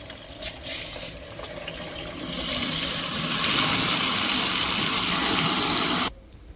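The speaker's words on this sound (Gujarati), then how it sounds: "આપણે તો પાણી ભરવા મૂકી દીધું છે પંપમાં" Water gushes steadily into a sprayer pump tank, the rushing noise swelling louder after a couple of seconds and then cutting off abruptly.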